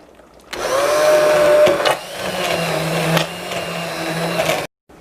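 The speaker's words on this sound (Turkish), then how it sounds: "el blenderı ile püre yapalım" A hand blender whirs steadily while pureeing broccoli soup in a pot, a loud close motor drone with shifting pitch and brief dips as the blade moves through the liquid, then it cuts off.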